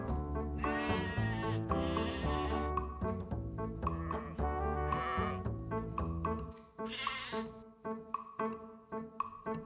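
Children in a Christmas play imitating sheep, their voices bleating in a steady string of loud, overlapping baas that run on for several seconds without pause.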